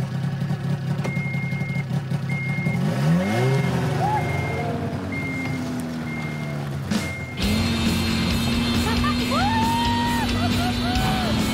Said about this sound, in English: Start your engine, hit the gas.